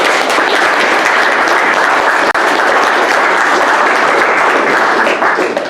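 Sustained audience applause at a Heartland Institute and CFACT event during the Paris COP-21 climate talks, dense and loud from many hands, continuous for several seconds with no voices standing out.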